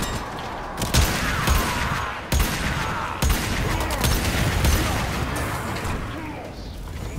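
Gunfire in the video game Warframe: several sharp shots and bursts crack through a dense, rumbling battle mix, loud and close, spaced irregularly over a few seconds.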